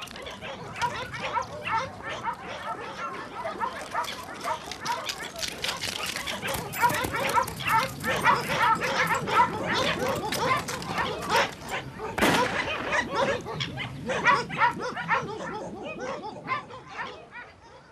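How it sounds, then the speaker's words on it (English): Tracking dogs chasing a puma near ranch land in the Andes bark and yip in rapid, excited bursts throughout, close and loud, while a narrator speaks over them. "Dogs are employed to track the pumas that cross into the ranches"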